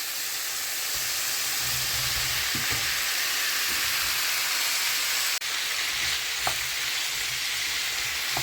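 Bratwurst sausage hisses in a hot breakfast pan in a loud, steady, close-up sizzle, with a few light knocks and scrapes and one brief break in the sound.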